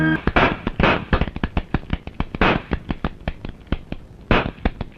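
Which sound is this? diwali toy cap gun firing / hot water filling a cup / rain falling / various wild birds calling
diwali toy cap gun firing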